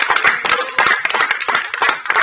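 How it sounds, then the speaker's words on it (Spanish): A church congregation applauds, with many hands clapping together in a quick, steady rhythm. The sound is loud and close, with no voices over it. "Denle un aplauso al Señor, hermano."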